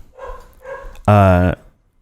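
A dog gives a single loud, close, drawn-out bark after a moment of soft murmuring voices.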